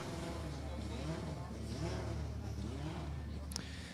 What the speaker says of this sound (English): And the engine is on.